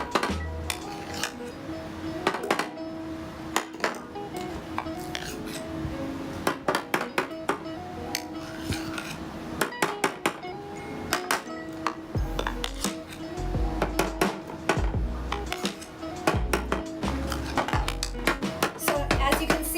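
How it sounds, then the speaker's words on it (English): Ice cream is scooped into a glass, with a steady run of metal spoon clinks, scrapes and knocks against glass and dishware, close and moderately loud, repeating irregularly for about twenty seconds. "now I'm just gonna take some scoops of it and put it in"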